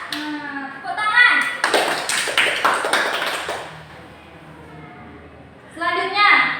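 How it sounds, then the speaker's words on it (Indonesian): A class of children claps hands at a teacher's prompt. A dense flurry of close, crisp clapping lasts about two seconds, with a voice speaking before and after it. "Nah, tepuk tangan."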